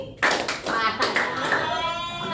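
A class of children claps in sharp, separate bursts on a teacher's count. Clustered claps ring out close, with children's voices mixing in.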